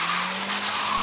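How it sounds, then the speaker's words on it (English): A 2009 Mazda MPS spinning its wheels at launch on a hillclimb course, a loud sustained tyre squeal with engine noise, close and continuous. "there's just too much wheel spin"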